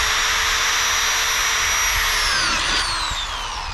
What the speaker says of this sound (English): Alright, holes drilled.